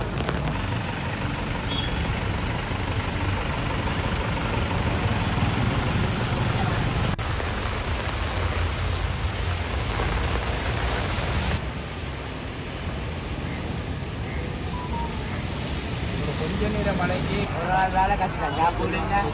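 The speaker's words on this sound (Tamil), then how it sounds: "மழை ஸ்டார்ட் ஆகிட்டுது அங்கேருந்து வருது பாருங்க" Heavy rain driven by strong wind in Jaffna, Sri Lanka, pours down as a loud, continuous broadband hiss through the whole stretch, easing slightly partway before building again.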